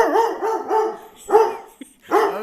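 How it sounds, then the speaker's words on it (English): Puppies bark from a YouTube video playing nearby: a quick run of three short yips, then two louder, fuller barks after a brief pause, alone without talk. "It's puppies on YouTube."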